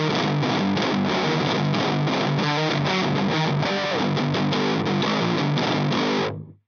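An electric guitar played through a Behringer HM300 distortion pedal plays a heavy, saturated riff of chugging notes, loud and constant, then cuts off abruptly at the end, with no talking.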